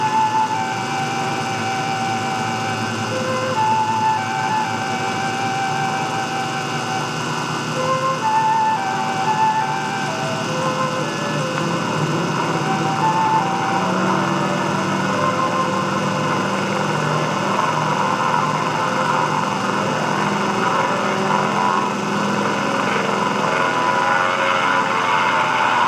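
A small aircraft flies over a lodge, its engine a steady droning hum that holds for the whole stretch at fairly even loudness, with no voices.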